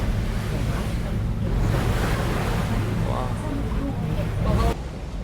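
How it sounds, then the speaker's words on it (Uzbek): Loud, continuous crash and wash of Black Sea waves at Sochi with wind buffeting the microphone, steady throughout and very close. "Qora dengiz, so'yla qora dengiz."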